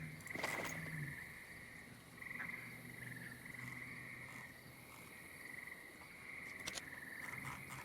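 A chorus of frogs sings at night in the game Project Silverfish, their steady trills repeating at an even pitch over faint insect chirring. A few louder croaks break in, and the whole scene stays quiet and distant.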